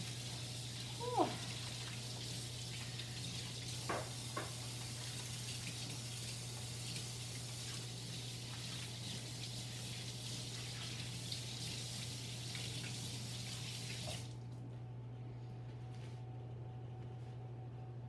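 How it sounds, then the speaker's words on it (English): Hands are rinsed under a running kitchen tap before baking muffins, a steady hiss of flowing water continuing for most of the stretch, a few light splashes and clinks near the start, then the flow cuts off abruptly near the end. "I'm gonna wash my hands before I put them in."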